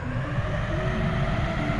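An aircraft engine is throttled up in the building game Aviassembly, producing a steady, moderately loud mechanical drone with an even whirring hum that holds constant throughout.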